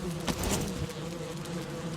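Bees buzz around a beehive near a house in the video game Valheim, a faint, steady drone with brief louder passes up close.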